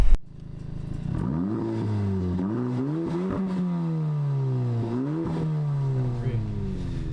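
An Audi A3 with an EQT Stage 1 tune and a Borla 2.5 catback exhaust pulls away after a loud start, its engine droning and climbing in pitch through several rising gear pulls, heard close from inside the car.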